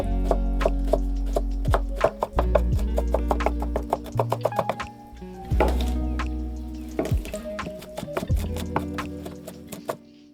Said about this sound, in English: I'm going to now prep the ingredients, which involves a lot of chopping.